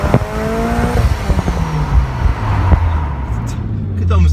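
Engine noise from inside a supercharged, tuned Subaru BRZ on the road, a loud droning engine note with shifting pitch and rumble, steady and close throughout.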